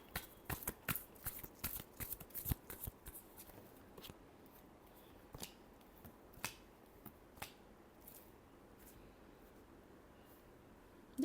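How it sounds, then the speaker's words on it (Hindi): A deck of tarot cards is shuffled in a quiet room, giving a run of crisp riffling snaps and slaps, dense at first and then thinning to sparse, separate flicks. "Last shuffle."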